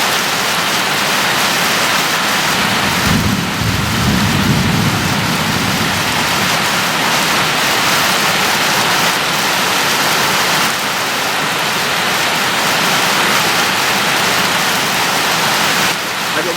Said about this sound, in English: This is officially, I guess, the first rainstorm for the ducklings.